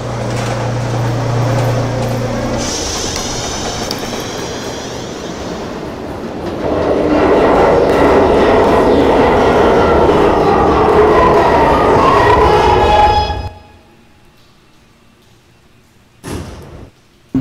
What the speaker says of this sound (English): Train is now arriving on the Express track.